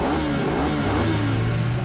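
Cartoon super bike engine revving, a loud close rumbling motor roar that holds steady with a rising drone and some mechanical clatter, no talk.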